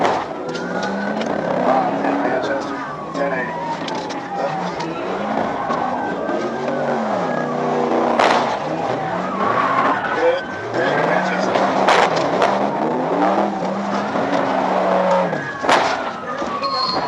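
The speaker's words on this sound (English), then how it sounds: "The officers turned around and observed the Crown Victoria seemingly engaged in a race with another vehicle." A Ford Crown Victoria races another vehicle on a road during a police pursuit, with engine roar, tire squeal and passing traffic heard from a distance, mixed with voices and radio chatter throughout.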